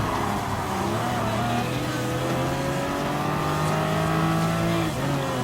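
Race cars in Gran Turismo Sport roar past a Porsche and a LaFerrari, a steady loud engine drone with layered rising and falling pitch lines that dips briefly near the end.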